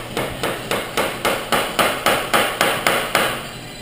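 Hammer blows striking a staked fifth gear retaining nut on an SRT-4 transmission held in a regular vise, ten sharp metallic hits in a steady, evenly spaced rhythm, loud and close with no talking.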